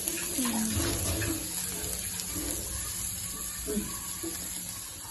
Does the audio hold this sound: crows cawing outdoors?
no